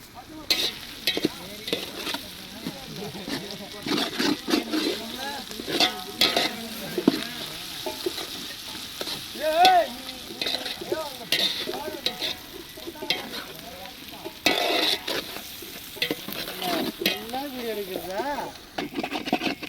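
Ginger and garlic sizzling and crackling in hot oil in a pan for a village-style fish curry, with steady close frying hiss and frequent stirring scrapes throughout.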